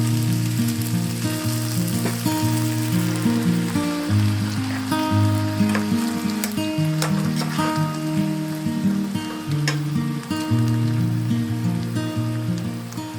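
Pork stir fry sizzling steadily in a single pot, a dense continuous frying hiss with faint stirring clatter throughout, close and fairly loud with no talking.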